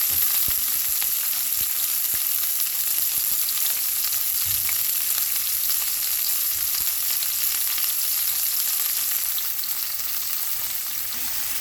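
Sweet onions and peppers frying in a pan until brown give off a loud, steady sizzle with a faint crackle. The sound stays even and uninterrupted for nearly twelve seconds.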